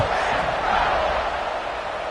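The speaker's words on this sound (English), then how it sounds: "this crowd is buzzing after that last score" Dense, steady buzz of a stadium crowd at a football game, a continuous loud wash of many voices with no distinct words, unbroken for the brief stretch.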